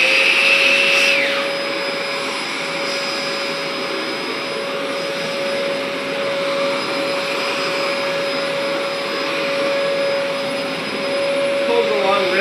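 A ZeroG floating canister vacuum cleaner runs steadily nearby, a loud, constant motor roar with a high whine, being pulled along over carpet.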